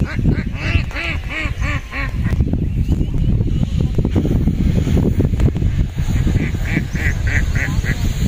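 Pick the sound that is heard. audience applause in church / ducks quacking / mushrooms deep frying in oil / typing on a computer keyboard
ducks quacking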